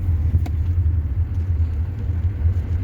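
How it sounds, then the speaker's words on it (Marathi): A car cruising in third gear during a driving lesson, its engine giving a steady low hum and road rumble from inside the cabin, with a brief faint click near the start. "आता आपली गाडी थर्ड गिअरवर चालू आहे"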